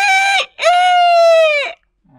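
A human voice imitates a rooster crowing in two loud, strained calls: a short burst, a brief gap, then a long sustained wail. Nothing else is heard besides a faint trailing sound.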